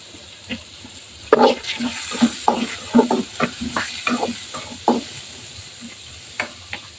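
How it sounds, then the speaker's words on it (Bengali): Small cubed potatoes with salt and turmeric fry in a pan, a soft sizzle running beneath a string of irregular scraping clatters from stirring, busiest in the middle and thinning out toward the end. "আলু এখন সামান্য বেজে নিব"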